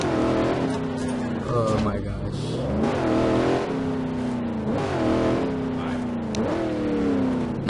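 A car engine in Garry's Mod DarkRP revving repeatedly, with loud, close rising whines that climb and drop in cycles as gears shift, heard continuously beneath someone talking.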